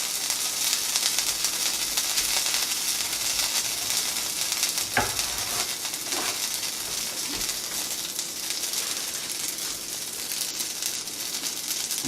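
Loud, steady sizzling of banana pancakes frying in a hot pan, with occasional clinks and scraping from stirring throughout.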